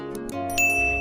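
Bright notification bell chime, a short ding with a sustained high ringing tone over a tonal background, loud and close, about one second long.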